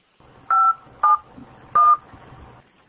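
Three short, loud telephone keypad DTMF tones beep in an uneven rhythm as a conference number is keyed in over a soft-phone line, with a faint background hiss between them.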